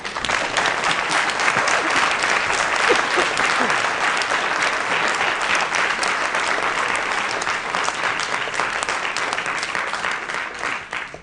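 Sustained applause from a campus audience at a public discussion, steady and loud throughout with dense overlapping claps and no break.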